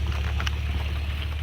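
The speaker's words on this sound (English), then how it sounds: "Big turbo." Large turbocharged off-road 4x4 climbing rocks on an extreme trail in New Mexico, a loud, steady low engine roar with a whooshing turbo edge, close to the microphone.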